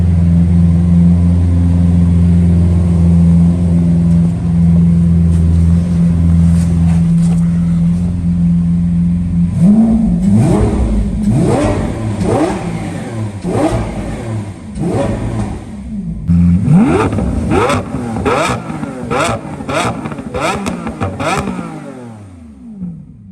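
A V12 Lamborghini Aventador with a catless exhaust sits at a loud, steady idle, then is blipped hard again and again: a rapid series of sharp revs rising and falling, close and powerful, until it cuts off.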